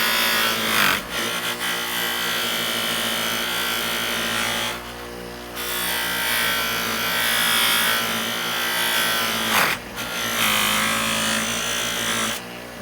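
A spinning polishing wheel buffs pinball pop bumper rings, giving a steady loud whirring grind that runs almost unbroken, with two brief dips where the ring is lifted off the wheel.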